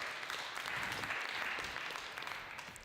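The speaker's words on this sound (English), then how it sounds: "Give them a big applause." Audience at a startup pitch competition event applauds as presenters change over, a brief wash of clapping that holds steady then fades toward the end, fairly quiet and distant.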